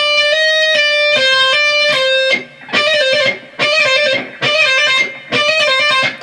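Distorted electric guitar riff from a song's solo, a loud close lick of quick hammer-ons and pull-offs in repeated rhythmic phrases with short gaps between them.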